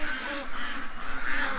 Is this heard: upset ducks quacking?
yes